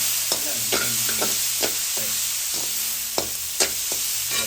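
Oil sizzles steadily in a pan as onions, green chillies and garlic are tempered, with a spoon stirring and scraping at irregular intervals; close and fairly loud, no voices.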